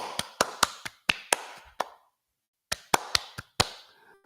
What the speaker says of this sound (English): you got to clap like a seal